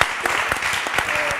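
A studio audience at a French television quiz show claps steadily in a dense, even burst of applause, with no talk over it.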